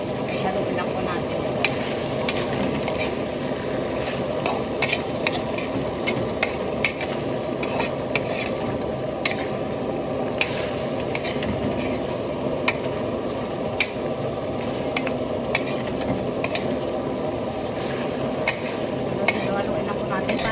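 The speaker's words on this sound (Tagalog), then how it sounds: "Haluin lang po natin para mag-mix yung mga pampalasa dyan sa ating atay balunan." Liver, gizzard, potatoes and carrots frying in a pan while being stirred, with continuous sizzling and a steady scraping rhythm of a utensil.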